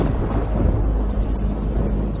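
Thunder rumbles on a stormy evening in South Philadelphia, a loud, continuous low roar with a dense, broadband texture and no voices.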